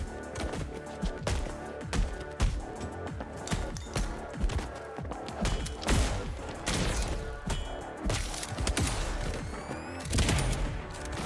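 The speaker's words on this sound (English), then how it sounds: "I do like the reflecting these bullets back on the bastards though." Dense video-game gunfire crackles in rapid, overlapping bursts as bullets are deflected back at enemies, loud and continuous with sharp impacts throughout.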